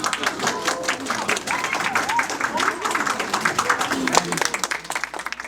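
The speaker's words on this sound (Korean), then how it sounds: "박수 부탁드립니다" Crowd applause at a football club's uniform unveiling and pre-season ceremony at Daejeon World Cup Stadium as players walk in, dense clapping mixed with crowd noise and a voice talking over it, then thinning out toward the end.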